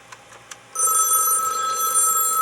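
A desk telephone on a home lab T1 router setup starts ringing after a few faint clicks, its bell a loud, sustained, bright trill that holds to the end.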